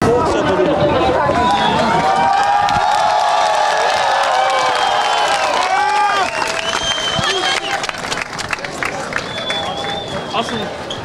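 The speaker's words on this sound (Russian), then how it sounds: "Болельщики обрадовались." Crowd of fans at a gathering in Semey cheers and chatters in a dense, continuous hubbub, with overlapping voices and shouts filling the whole stretch at close range.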